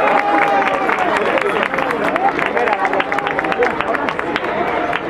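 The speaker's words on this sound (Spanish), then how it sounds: "los Bros. Un aplauso." Applause breaks out at a children's carnival parade in Cuéllar, dense clapping mixed with crowd hubbub and overlapping voices for several seconds, fairly loud and close.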